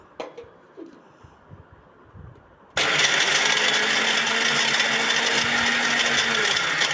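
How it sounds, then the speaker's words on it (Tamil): Olives and olive oil in an electric mixer grinder, which kicks on abruptly after a quiet stretch with faint birdsong and then whirs loudly and steadily to the end. "அந்த ஆலிவ் ஆயிலு ஊற்றி இப்போ நம்ம மிக்சியில் அரைச்சி எடுத்துக்குவோம்"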